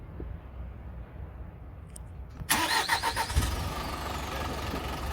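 A 3.5-ton refrigerated truck's high-mileage engine turns over and settles into a steady idle, a low rumbling drone after a brief burst of clatter, close by.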